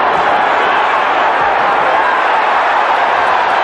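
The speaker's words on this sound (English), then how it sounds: "The crowd loves to see this." A boxing arena crowd roars steadily and loudly throughout a Larry Holmes versus Mike Tyson fight, a dense sustained wash of cheering with no distinct breaks.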